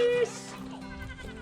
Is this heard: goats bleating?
yes